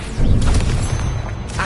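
Incendio fire spell cast in a Hogwarts video game, a loud, full whooshing burst of flame that rumbles on for over a second, with no talk over it.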